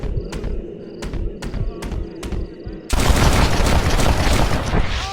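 Loud gunfire crashes in a Red Dead Redemption Remastered duel: a handful of sharp, evenly spaced shots first, then a dense, sustained burst of noise.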